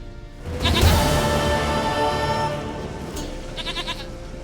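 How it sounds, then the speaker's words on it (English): A goat bleats loudly in The Witcher 3, one long, wavering cry that fades out, with a faint jingling near the end. "Goat of mine, dearest, sweetest goat."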